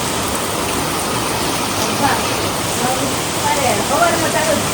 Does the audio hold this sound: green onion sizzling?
no